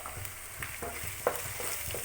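Chicken fries in a pan with turmeric just added, giving a soft, steady sizzle broken by a few light stirring scrapes and one sharper clack near the middle, with no voices.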